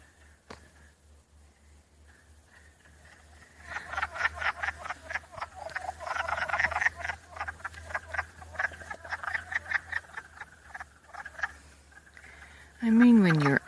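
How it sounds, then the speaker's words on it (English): Frogs croak outdoors on a pleasant day in a dense, rapid, rattling chorus that builds after a few seconds and carries on steadily, fairly close and loud, with a brief voice-like sound at the very end. "Aren't these frogs lovely?"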